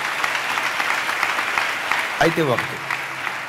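Church congregation applauding during a Christmas service, a steady broad wash of clapping throughout with a voice briefly speaking over it near the end.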